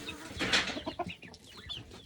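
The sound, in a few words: chickens clucking at feeding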